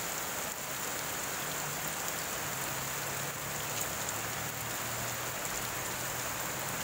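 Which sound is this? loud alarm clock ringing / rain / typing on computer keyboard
rain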